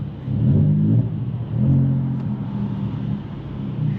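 A VW Up GTI with a 1-litre three-cylinder engine and a dual exit straight pipe exhaust revs twice in close succession, then settles into a deep, throaty rumble that swells again near the end.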